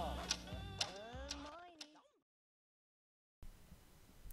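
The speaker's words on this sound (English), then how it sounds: "What is that mysterious ticking noise?" A faint mysterious ticking comes from several YouTube videos playing at once through iOS screen mirroring, evenly spaced clicks about every half second under a muddle of overlapping sound, then a silent gap before a noisy hiss returns.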